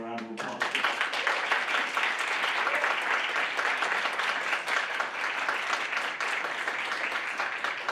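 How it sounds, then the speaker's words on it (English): Steady audience applause at the close of a symposium panel on democracy, dense continuous clapping from a large crowd throughout. "Let's give them a round of applause."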